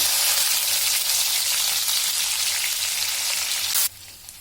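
Ash gourd frying in a pan with green chillies, onion, tomato and curry leaves gives a loud, steady, close sizzle that runs unbroken for about four seconds before cutting off abruptly, with no voices.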